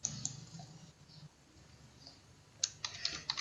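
Someone types on a computer keyboard with quiet, scattered key clicks, then a faint burst of quicker taps near the end over a soft background hiss.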